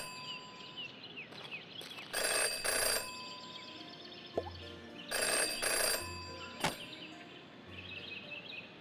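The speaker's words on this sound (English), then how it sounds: "Jenny had learned never to ignore a ringing phone" In the detective video game Jenny LeClue, a telephone rings in two clear, loud trilling bursts with pauses between them, over quiet ambient music and occasional soft chimes.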